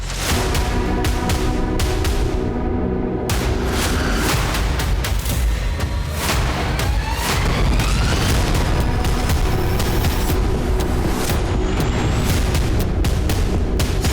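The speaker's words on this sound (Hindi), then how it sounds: "लगातार धमाके की आवाज आई है गाजा पट्टी से।" A barrage of loud, heavy booms and blasts from rockets fired from the Gaza Strip follows in quick succession over a constant roaring rumble, with no clear voices.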